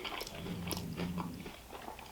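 Crunchy fried potatoes chewed up close during a mukbang meal, with bites and wet crunching packed into a couple of seconds and no talking.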